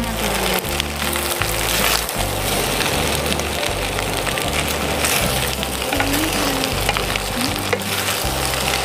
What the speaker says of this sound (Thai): ตอนนี้ก็ได้ผัดข้าวผัดสวยๆทานแล้วนะคะ